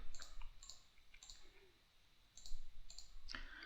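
Sparse, crisp computer mouse clicks while drafting a sketch in CATIA CAD software, a handful of quiet, close taps in irregular pairs with short pauses between them and no talk.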